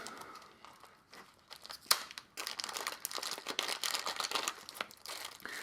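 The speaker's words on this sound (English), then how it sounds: "The instructions comes in a nice little cellophane wrapping." Cellophane wrapping torn open and peeled off a set of instructions for a spy camera keychain, close crinkling and crackling in bursts, with one sharp crack and a busier stretch of rustling near the end.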